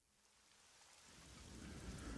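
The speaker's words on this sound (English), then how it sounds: "Raining." Rain in an animated skibidi toilet episode rises from a faint hiss into a dense, heavy downpour with a low rumbling thunder-like roar building underneath, no voices present.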